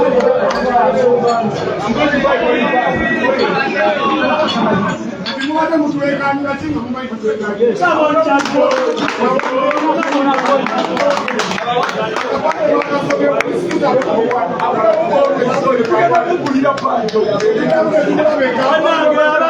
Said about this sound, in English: It is a full crowd here at Dice Lounge.